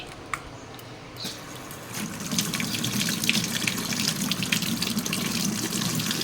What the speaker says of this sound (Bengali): আমার এই স্টিলের কলটা কবে ঠিক করবে কে জানে আমার বর, ওটার ওয়াশার খারাপ হয়ে গেছে।